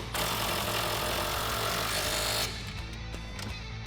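A power tool runs down an 18mm nut on a stud during a lowering-spring install on a 2015-2019 Mustang GT: a loud, harsh, buzzing hammer burst for over two seconds, then a softer rattling tail as it stops.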